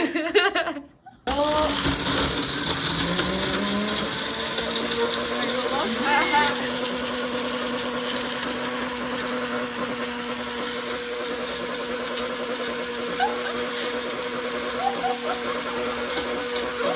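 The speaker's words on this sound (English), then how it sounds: "we're gonna blend it up and our lassi will be ready." A kitchen blender runs continuously, blending a lassi with ice cubes. The whir is loud and steady, with a brief drop near the start before it settles into a sustained grinding hum.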